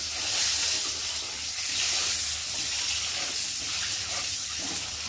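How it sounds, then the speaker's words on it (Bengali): Eggs fry with salt and turmeric in a pan, making a loud, steady, hissing sizzle that carries on unbroken from start to finish, with no talking. "আর ডিমগুলোকে ভালো করে ভেজে নেব। ভালো করে নেড়ে দেবো।"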